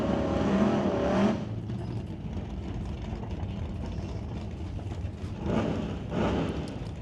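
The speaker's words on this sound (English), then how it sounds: "Mustang in the other lane." A Ford Mustang roars off at a drag strip, the engine rising and fading at a distance, with later swells of exhaust noise from the lane.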